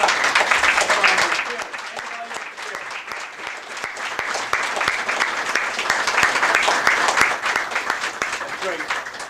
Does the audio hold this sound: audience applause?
yes